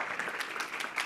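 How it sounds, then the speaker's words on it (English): Audience applause at an afternoon plenary session of a challenge finals event, a brief burst of many hands clapping at moderate distance, fairly soft and even. "Big round of applause for Asha and the Caterpillar Foundation"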